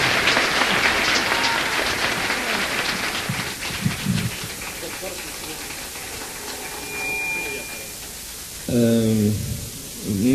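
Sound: concert audience applause

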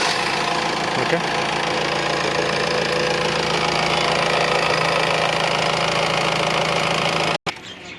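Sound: Honda Mobilio car engine started and idling

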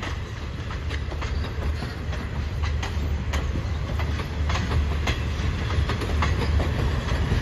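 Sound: rapid train 136 departing Bangkok Hua Lamphong station platform

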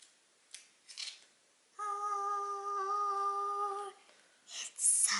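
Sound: peeling plastic wrapping off an Apple Watch box

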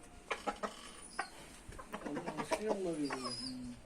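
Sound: rooster calling to the other chickens

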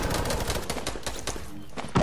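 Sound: gunfire in the Fortnite video game

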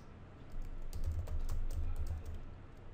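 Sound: typing on a computer keyboard

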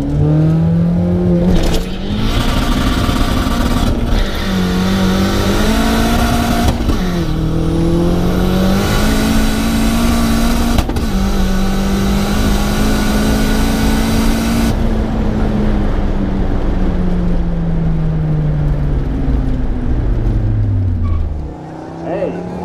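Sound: car doing a burnout

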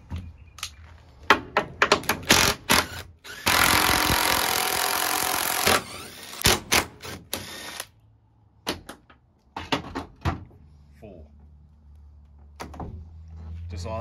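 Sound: power tool undoing door bolts on a TD42 GQ Patrol

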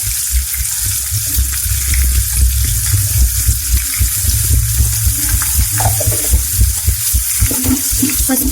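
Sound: onions, green chillies and curry leaves frying in a pan

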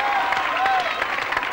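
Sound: audience applause for Jean-Michel Jarre

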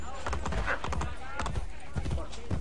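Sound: horse galloping in Assassin's Creed Brotherhood video game

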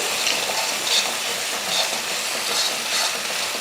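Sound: eggs with salt and pepper scrambled in a pan

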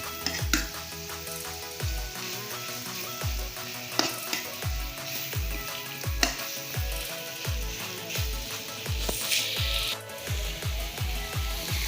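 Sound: stir-frying pork for spicy northern Thai pad phet

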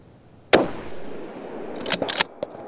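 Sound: gunshots from a Falkor Defense 7even 6mm rifle

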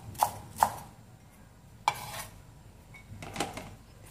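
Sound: chopping green onions with a knife

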